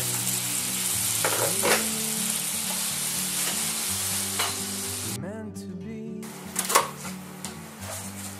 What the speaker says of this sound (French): Ajouter un petit fond d'eau pour déglacer.